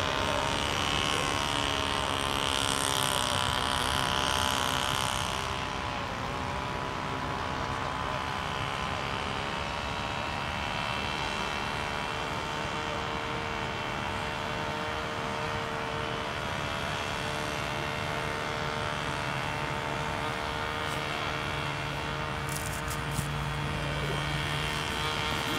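A model airplane flying at a club field gives off a sustained, droning engine whine throughout, steady in loudness with a slight shift after the first few seconds, and faint background voices under it.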